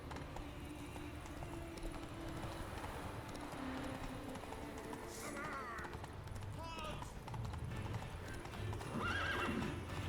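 Geralt's horse Roach in The Witcher 3, steady galloping hoofbeats under ambient game sound, with several sharp whinnies and neighs breaking through near the middle and end while a voice talks intermittently.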